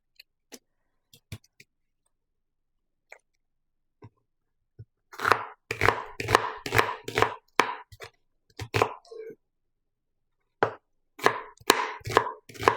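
A knife minces onion on a cutting board in quick bursts of sharp chopping taps, close and clear, separated by short pauses.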